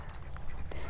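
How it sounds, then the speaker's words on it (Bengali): Ducks wandering along a rural roadside in a village near Kolkata give brief quacking calls over steady outdoor background noise, fairly close but not loud. "হাঁস"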